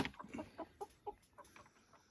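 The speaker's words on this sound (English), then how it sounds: "We've collected a few of what we know are roosters." Several roosters in a new movable chicken tractor coop cluck softly in a quick run of short, close clucks, with no talking.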